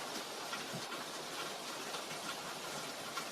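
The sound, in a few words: rain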